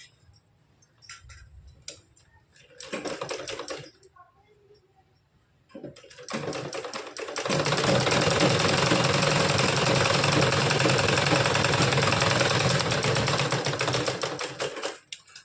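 Sewing machine stitching blouse fabric, starting with scattered ticks and short stop-start bursts, then settling into a loud continuous rapid clatter of stitching for about seven seconds.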